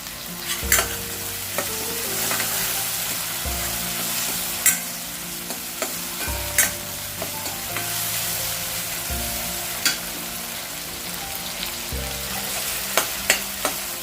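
Chopped tomato with a little salt fries in a pan for a rajma aamti. A steady sizzle runs underneath, broken by repeated stirring scrapes and clinks of a spoon against the pan.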